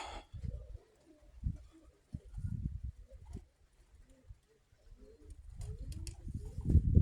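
Low, soft pigeon coos repeat in short bursts at close range, with some rustling and a few brighter noises near the end.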